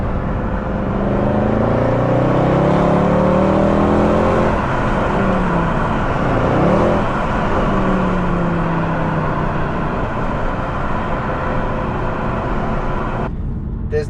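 A Mercedes-AMG C63 W204 engine pulls hard through rising revs, a loud, full-throated drone sweeping upward, easing off and building again through a shift before settling into a steady cruising roar.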